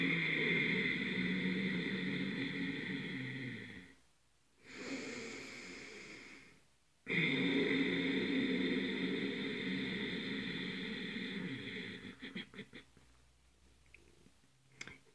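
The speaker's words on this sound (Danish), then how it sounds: "Det var en yoga-vejrtrækning." Yoga breathing through the throat: a long, close, raspy exhale rumbles for about four seconds, a short softer breath follows, then another long hoarse exhale that trails off.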